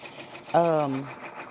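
An embroidery machine stitching a kids jacket gives a brief, close whirring burst of motor sound that sweeps downward in pitch and fades within about half a second.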